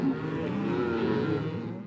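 A cow lets out a long, low, drawn-out moo lasting nearly two seconds, close and fairly loud, with no talking.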